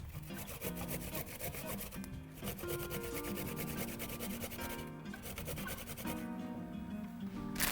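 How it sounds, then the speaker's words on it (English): A peeler with an up-and-down grating system shreds vegetables for a summer salad, making rapid repeated rasping strokes close by, steady and rhythmic throughout over faint background music. "this particular peeler because it's got this grating system where it grates both up and down"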